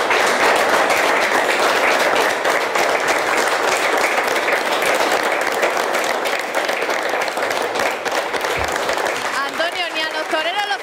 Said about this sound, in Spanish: ni a los toreros los aplauden tanto